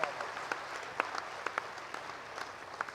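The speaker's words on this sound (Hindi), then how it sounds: "एक बार जरा जोरदार तालियां" Audience clapping at a Hindi kavi sammelan poetry gathering in Haridwar rises after a poet's recitation, a fairly soft, continuous patter of many hands with a few sharper individual claps popping out above the rest.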